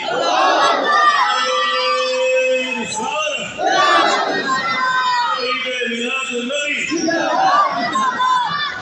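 A large crowd at an outdoor religious gathering shouts takbir in unison, loud, drawn-out chanted roars from many voices that rise and fall in several waves.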